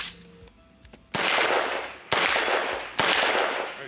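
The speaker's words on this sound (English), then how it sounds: "That's a mag dump." A Daniel Defense or BCM 14.5-inch rifle fires three loud, sharp blasts about a second apart outdoors, each one trailing a long booming echo.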